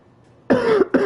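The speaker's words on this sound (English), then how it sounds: "This cough, man, it's killing me." Two harsh coughs from a man, a longer rough cough followed by a shorter one, close and loud with no talk over them.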